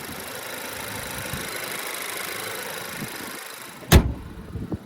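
A 2024 Honda Accord EX's 192-horsepower 1.5-liter turbo four-cylinder runs with the hood open, a steady, even idle drone heard up close, with a sharp clunk near the end and no talk.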